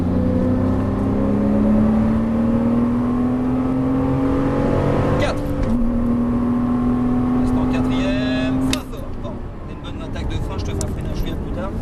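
A Porsche Cayman S accelerates at full throttle, the engine note climbing steadily through a gear, dipping at a shift, then pulling again before the throttle lifts, close and loud.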